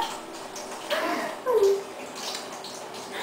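Water running steadily from a shower, a continuous broadband hiss with a faint ringing tone rising through it, heard indoors with a voice talking faintly underneath.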